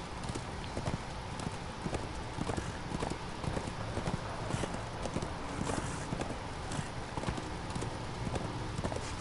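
Horse galloping in the video game Darksiders II, hooves pounding in a steady rapid rhythm for several seconds, close and continuous over a busy background of game sounds.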